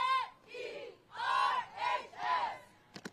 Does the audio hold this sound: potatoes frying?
no